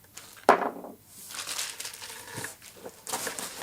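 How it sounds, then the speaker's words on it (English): A large plastic bag holding the accessories for a limited-edition turntable is handled, giving a sharp crinkle at the start and then softer scattered rustles close by. "We see a big plastic bag with all of the accessories."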